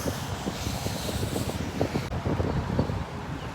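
Wind gusting outdoors along a roadside walk near Cairns, a steady rushing roar buffeting the microphone with irregular low thumps, loud and continuous with no one talking.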